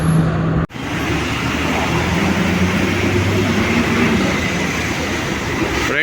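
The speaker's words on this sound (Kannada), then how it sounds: "ನೀವು ನೋಡ್ತಾ ಇರೋದು ಕೊಲಂಬೋ ಫೋರ್ಟ್ ರೈಲ್ವೆ ಸ್ಟೇಷನ್ನು." Steady, loud rumble of a train at Colombo Fort railway station in Sri Lanka, with a continuous low drone and roar filling the whole span after a brief dip near the start.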